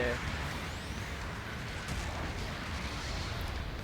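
Weapons fire in the mecha game Gundam Battle Operation 2 as a dense, rumbling barrage of booms and blasts that runs continuously, with a voice talking over it.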